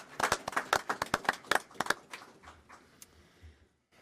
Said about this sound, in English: I think that is worthy of some applause